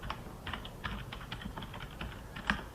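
Steady typing on a computer keyboard, fairly close and clear, with irregular rapid key clicks and a slightly louder keystroke near the end, no voices.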